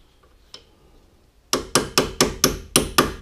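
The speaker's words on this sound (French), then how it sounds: "Qui va rentrer tranquillement vite avec un coup de marteau." Hammer strikes driving a wheel bearing part into a 2012 Hyundai Accent, a series of eight sharp metallic blows in fairly steady rhythm, close and loud, after a quieter lead-in with one lighter tap.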